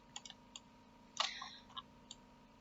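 A computer mouse clicks once sharply in SketchUp during 3D modelling with the Follow Me tool, with a few faint softer ticks scattered before and after over a quiet background hum.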